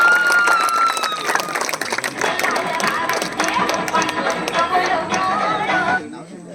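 A crowd at a cricket tournament prize ceremony applauds a batsman, with dense clapping mixed with cheers and voices at a fairly loud level, then fading out at the very end.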